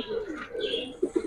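Caged pigeons at a pigeon market give soft, throaty coos, with two short bursts close together near the end, under a murmur of nearby voices.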